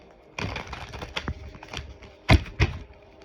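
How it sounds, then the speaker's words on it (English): Tarot cards from a Light Seers deck being shuffled, with a run of soft riffling clicks and two sharper snapping bursts near the end, close and fairly quiet, no speech. "This one needs a good shuffle"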